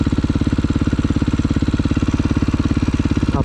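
A motorcycle engine runs loud and close in fourth gear during a stunt-riding practice session, giving a fast, even, heavy pulsing throb that holds steady throughout.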